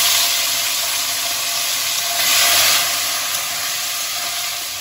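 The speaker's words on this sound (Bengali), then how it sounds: "এই টমেটো কুচিটা দিয়ে দিচ্ছি।" Chopped tomato dropped into hot spiced oil for a spicy katla fish curry, giving a steady, loud broadband sizzle and hiss that swells briefly midway and then settles, with no voices.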